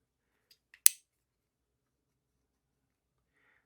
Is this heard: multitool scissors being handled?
yes